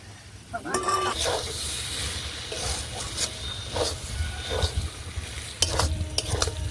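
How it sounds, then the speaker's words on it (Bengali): Chicken mince stir-fried with spice masala in oil, a loud close sizzle with repeated scraping and clattering spatula strokes in bursts across the pan. "মশলাটা দিয়ে চিকেন কিমাটা ভালো করে কষিয়ে নেব"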